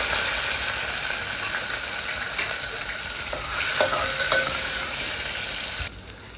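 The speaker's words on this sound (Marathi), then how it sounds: "आता याच्यामध्ये आपण कढीपत्ता आणि टोमॅटो टाकूया." Curry leaves and tomato hit hot oil in a pot for a Rohu fish curry with black spices, giving a loud, steady sizzle with brief crackles and a few stirring scrapes, dropping quieter near the end.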